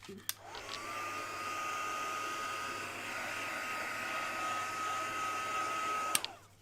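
A handheld hair dryer blows steadily over wet paint on a color-along artwork, switching on with a click and running at an even, close whine for about six seconds before cutting off.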